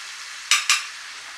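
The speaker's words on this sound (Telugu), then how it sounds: "కొద్దిగా కట్ చేసినటువంటి పచ్చిమిర్చి వేసుకొని కలుపుదాము. ఈ విధంగా కలుపుకొని" Chopped green chillies being stirred into a frying pan for Andhra crab curry: steady frying hiss with two quick, close scrapes of a spoon against the pan.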